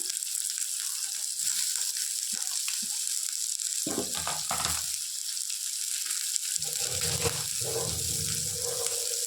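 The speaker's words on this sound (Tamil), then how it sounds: "இப்போ இதை நல்லா வதங்கட்டும்" Chopped big onion and green chilli sautéing in a pan for Bombay chutney, a steady hiss of frying with bursts of stirring and scraping partway through, close and alone without talk.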